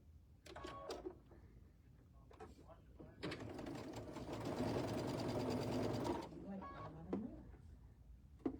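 A sewing machine stitches a quarter-inch seam with a J-foot, running steadily for about three seconds after soft handling clicks, with a faint voice in the background.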